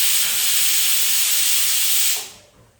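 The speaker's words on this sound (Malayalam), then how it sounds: "2 വിസിൽ വന്നപ്പോൾ ഞാനതാ നമ്മളെ കുക്കർ ഓഫാക്കി കൊടുത്തിട്ടുണ്ട്." A pressure cooker whistle releases a loud, steady jet of hissing steam, close to the microphone, which cuts off sharply near the end and leaves a faint residual hiss.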